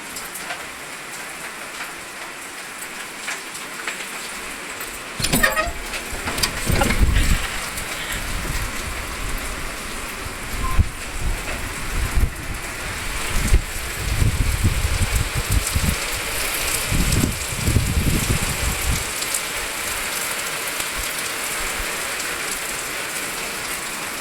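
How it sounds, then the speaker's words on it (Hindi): Steady rain pours down outdoors, a continuous broadband hiss that thickens into heavier, louder patter partway through and keeps falling to the end, with no voices. "अब बारिश हो रही थी"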